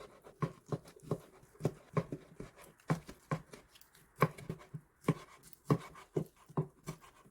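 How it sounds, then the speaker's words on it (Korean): A knife slices braised pork cooked with kimchi on a board in a series of soft, irregular thuds and taps, close and quiet, with no talking. "집게로 고기를 꺼내어 고기를 썰어줍니다."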